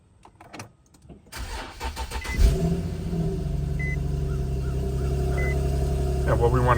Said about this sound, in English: Get into the car. And we're going to start it.